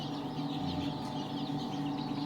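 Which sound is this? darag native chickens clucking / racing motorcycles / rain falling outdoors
darag native chickens clucking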